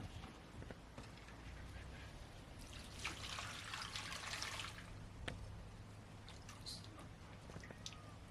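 Water splashing and trickling as vegetables are washed by hand in a village setting, with a fuller burst of pouring midway, faint drips and clinks, and a low background hum, fairly quiet and close.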